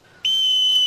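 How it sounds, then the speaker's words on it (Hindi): One loud, sharp whistle is blown as a signal to start a flying lesson on broomsticks, a steady piercing tone that starts suddenly and holds without talk. "सीटी बजते ही"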